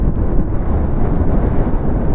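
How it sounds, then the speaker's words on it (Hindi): Strong, gusty wind buffets a motorcycle on a mountain road to Chitral, a loud low roar of wind across the microphone that rumbles and flutters continuously with no voices. "बहुत ज्यादा तेज हवा है कंटिन्यूसली जो है, बाइक बिल्कुल अनस्टेबल जा रही है।"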